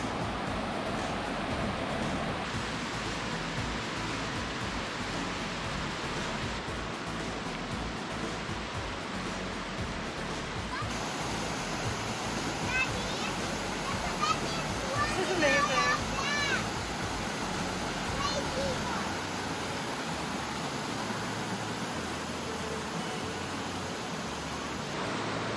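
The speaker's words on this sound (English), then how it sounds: "So I'm just exploring down the river a bit, and I came to this waterfall." Broadband steady rush of a waterfall on a river in Barron Canyon, Algonquin Park, loud and continuous throughout, with faint voices and children's sounds mixed in.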